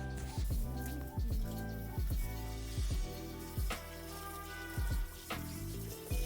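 Shower water running and splashing in a bathroom, a steady flow broken by a string of short, repeated knocks and clatters, fairly close, with no speech.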